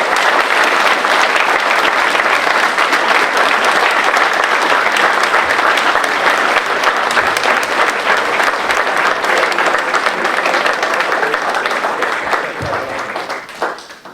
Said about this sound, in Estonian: Täname neid ühe suure aplausiga.